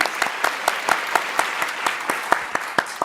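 A studio audience at a game show finale applauds the contestants, with rapid, crisp clapping accented by distinct louder claps throughout.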